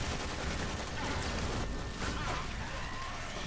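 Long-range rifle gunfire in the Warframe video game, a dense continuous volley of rapid shots, loud and sustained over the whole stretch.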